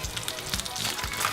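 Shredded hash browns fry in a pan over a gas flame, giving a close, crackling sizzle with irregular pops and spits.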